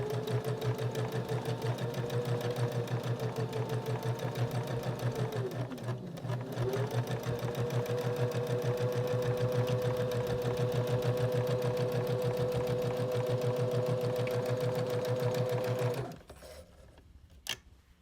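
A sewing machine runs a continuous seam down a fabric tube for a luggage tag holder, its steady rapid stitching loud and close with one brief slowdown midway, then stopping near the end.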